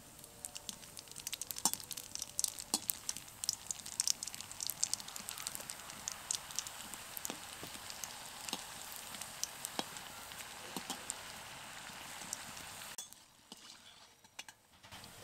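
Gohona bori lentil dumplings fry in oil with a faint, continuous crackle dotted with small sharp pops and clinks, then go suddenly quiet near the end, with no voices.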